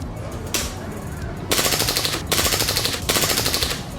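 Rapid gunfire in a video game fair shooting gallery, three loud sustained bursts of quick rifle shots close up, separated by brief pauses.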